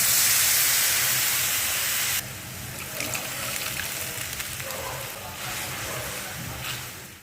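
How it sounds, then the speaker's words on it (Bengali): Jute leaves simmer in a broth, giving a steady bubbling hiss that is loud for the first two seconds and then settles into a softer simmer with a few faint clinks. "এখন এই ঝোলের সঙ্গে শাকটাকে 2 থেকে 3 মিনিট ফুটিয়েই তারপরে নামিয়ে নিব।"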